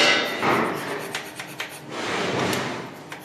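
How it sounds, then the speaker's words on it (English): A hand scraper works a metal machine guideway, giving close, harsh rasping strokes with short scraping pulls and a few sharp clicks between them, no talk. "only very thin layers are removed with the scraper"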